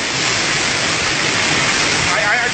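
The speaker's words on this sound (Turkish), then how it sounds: "Şırıl şırıl akıyor. Bu dereler coşuyor." A waterfall and stream roar continuously with dense, steady rushing water. The sound is loud and close, filling the whole stretch without a pause, and no voice is heard over it.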